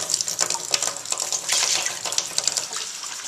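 Water pours steadily into a brewing pot close up, four cups for a home beer brew, a continuous splashing stream with slight surges and no talk.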